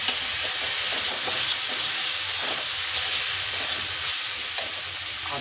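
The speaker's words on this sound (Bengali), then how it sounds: "মশলাটা খুব ভালো করে কষিয়ে নেব" A ground paste of ginger, garlic, coriander and cumin fries in oil with a loud, continuous close-up sizzle and hiss, with faint scraping from stirring throughout.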